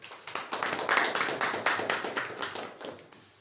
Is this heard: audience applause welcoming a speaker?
yes